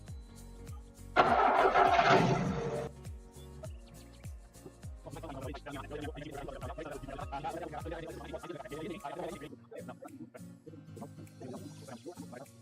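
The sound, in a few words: car engine being started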